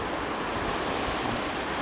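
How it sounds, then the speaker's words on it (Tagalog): Strong monsoon surf in Calatrava roars in a dense, unbroken wash of crashing water, loud and close with wind buffeting the microphone. "Napakalakas ng alon, guys."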